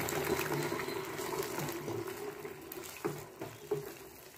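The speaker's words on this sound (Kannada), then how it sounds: "ಈಗ ನಾವು ಇದಕ್ಕೆ ನೀರನ್ನು ಹಾಕ್ಕೊಳ್ಳೋಣ." Water is poured into a pan of thickening cornflour sauce while cooking restaurant-style gobi manchurian, about one cup. It makes a steady gushing pour that fades slightly, followed by a couple of soft clinks near the end.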